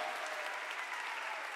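Church congregation applauding during a sermon, a dense, steady wash of many hands clapping at once that holds evenly for the whole moment without any voices.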